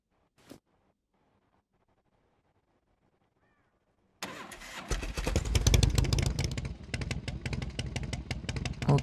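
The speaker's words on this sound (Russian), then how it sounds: "теперь спавним байк наш. Крузер." A cruiser motorcycle engine in the video game SCUM starts after a few seconds of near silence, then idles and revs loudly in uneven bursts close up, with no talk over it.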